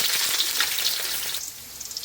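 Onion sizzles in hot oil with a steady bright hiss that eases slightly toward the end, close and alone.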